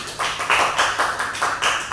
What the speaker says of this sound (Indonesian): tepuk tangan untuk Desti